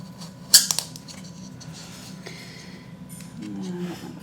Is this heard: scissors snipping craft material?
yes